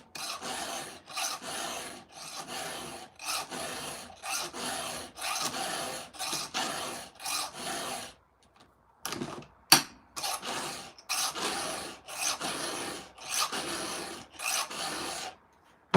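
A hand file rasps in quick, regular back-and-forth strokes, likely across a chainsaw chain, with a brief pause midway before the strokes resume close up.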